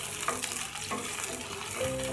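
Green chillies and garlic cloves fry in oil for a curry, giving a continuous close crackle and sizzle with a few small pops and a faint tonal hum, and no one speaks.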